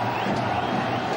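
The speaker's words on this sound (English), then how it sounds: "Crowds chanting Dhoni's name." A cricket stadium crowd chants Dhoni's name, a dense, continuous roar of many voices holding steady and loud throughout, with no pauses.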